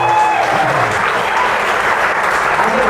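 Wedding guests applaud in a steady, dense round of clapping that fills the room at close range, with faint voices mixed in under the applause.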